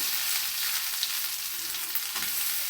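Grated coconut frying in ghee in a pan on a stove, a steady, fine hiss of sizzling with occasional light stirring, close and continuous, no talking.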